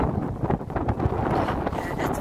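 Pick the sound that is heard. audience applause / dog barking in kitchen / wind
wind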